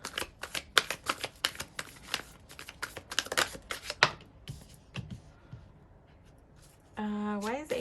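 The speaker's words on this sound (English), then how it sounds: "I'm just gonna get a couple more cards" Tarot cards are shuffled and drawn by hand: a rapid run of crisp, close flicks and riffles that thins into a few single card snaps, then a voice speaks at the end.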